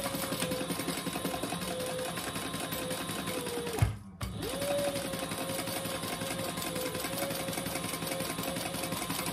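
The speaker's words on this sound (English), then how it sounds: "we're gonna baste that in place" Sewing machine basting a piece of a bend-and-snap clutch in place, a close, continuous motor whir with rapid needle chatter, briefly pausing midway before resuming at the same steady pace.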